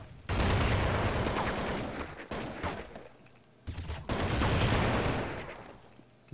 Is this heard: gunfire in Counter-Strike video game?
yes